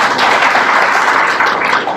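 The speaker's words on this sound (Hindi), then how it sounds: "तो बजाओ अपने लिए ताली।" An audience at a mind-power talk by Prof. BK Onkar Sharma in Karnal, Haryana, breaks into loud, close, continuous applause, many hands clapping in a dense, steady burst for about two seconds.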